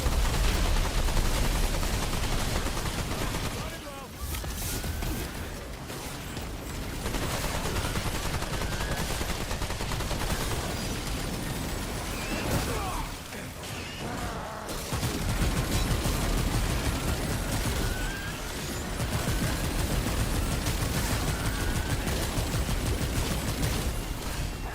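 Sustained video game gunfire, dense rapid machine-gun bursts and volleys that run almost nonstop for about twenty-five seconds with brief lulls, loud and close, with no talk.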